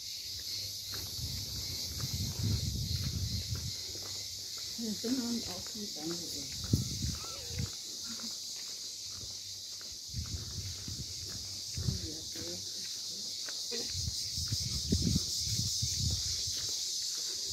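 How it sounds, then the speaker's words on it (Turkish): Crickets chirp in a steady, high, continuous chorus over a quiet seaside village with restored stone houses, while a person talks over them throughout. "Cırcır böceklerinin sesi hariç tamamıyla sessizlik hakim."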